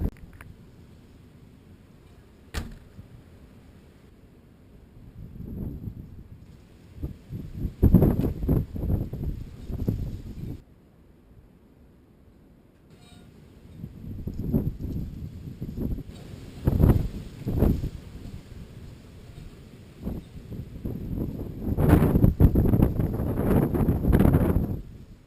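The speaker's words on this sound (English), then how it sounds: "It's very windy. Storm Freya." Gusts from Storm Freya buffet a muffled Yi action camera microphone outdoors, coming in loud, rumbling bursts that swell and fade between quieter lulls.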